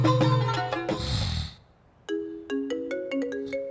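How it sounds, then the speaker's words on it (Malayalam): A mobile phone ringtone plays in short, repeated melodic bursts that start after a loud passage of voices and music, then a brief quiet pause. The tones are clear and close. "കുറെ നേരം ഫോൺ അടിക്കണം"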